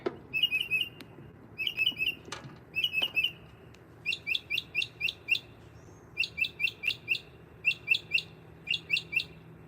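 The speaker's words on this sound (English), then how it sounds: "We got some birds." Bursts of high, rapid bird chirps repeat in short clusters at sunrise at Disney's Polynesian Resort, fairly close and bright over a quiet, low background hum.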